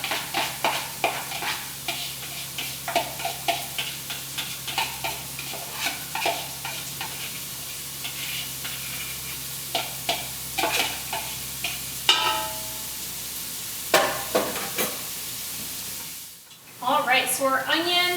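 Chopped onion sautés in a pan after cooked meat, with a spatula scraping and tapping in an uneven rhythm over a soft sizzle, close and moderately loud, no talking.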